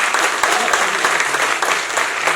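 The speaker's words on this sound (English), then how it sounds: "Let's say this has to be the loudest round of applause." Loud, sustained applause from a live audience at an app launch event, dense clapping continuing evenly throughout.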